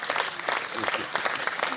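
An online press-briefing audience gives a round of applause: dense, continuous clapping that stays fairly even throughout.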